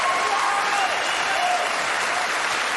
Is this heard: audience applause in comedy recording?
yes